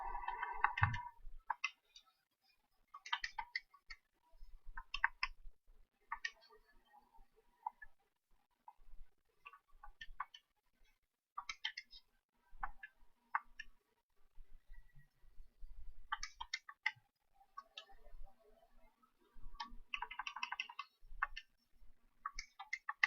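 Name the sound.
typing numbers into a calculator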